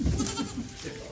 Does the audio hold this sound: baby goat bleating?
yes